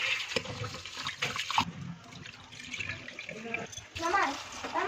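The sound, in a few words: water running from a tap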